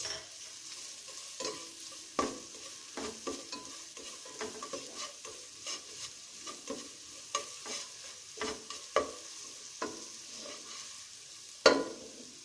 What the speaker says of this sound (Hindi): ये सिंपल गार्लिक राइस हमने बनाने, इसको हल्का सा सौते कर लेते हैं।